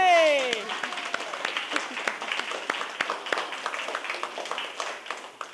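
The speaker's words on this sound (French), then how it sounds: "Puis les jeunes, est-ce qu'on les applaudit aussi?" An audience applauds young participants at a community gathering, a dense burst of clapping that starts after a brief voice and carries on steadily, fairly close and lively.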